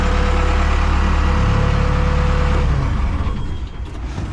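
A boom machine's diesel engine idling with good oil pressure and water temperature, a loud steady low rumble close by that eases and roughens toward the end, with no voices.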